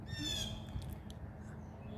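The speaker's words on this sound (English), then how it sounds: "you guys hear that hawk screeching?" A single harsh, high-pitched hawk screech rings out briefly at the start, fairly faint and distant over low outdoor rumble.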